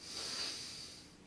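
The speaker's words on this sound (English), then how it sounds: "Take another deep breath in through your nose" A slow deep inhale through the nose during a yoga breathing exercise, soft airy hiss swelling and fading over about a second, close and quiet, alone.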